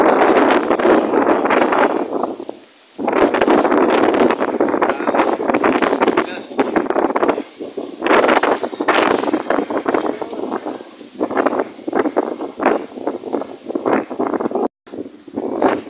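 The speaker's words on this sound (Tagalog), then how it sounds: "grabe yung bagyo na to" Strong typhoon wind roars and buffets the microphone in loud, continuous gusts with brief lulls, storm noise dominating throughout near the sea.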